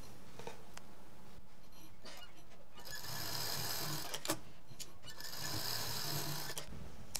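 A sewing machine stitches together the side pieces of a large three-pocket fabric shoulder bag, a steady quiet mechanical whirr that runs in two longer bursts with brief pauses between.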